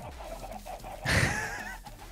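Chickens clucking in Minecraft, a short burst of fowl calls rising over a steady game background hum, loudest in the middle, with no talk.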